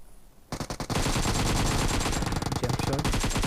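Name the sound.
gunfire during a jump shot in a mobile shooter video game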